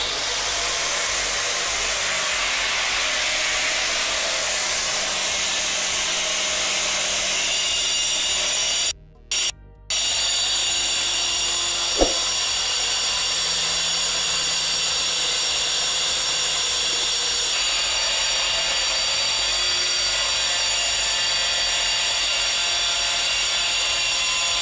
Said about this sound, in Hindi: दोस्तों चारों साइड में इसके ग्राइंडर चला के इस तरह ये देख लें